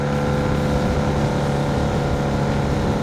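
A 1980 Honda CB 400 N motorcycle built as a scrambler labours up a hill at full throttle, giving a dense, unbroken engine rumble that stays loud and steady throughout.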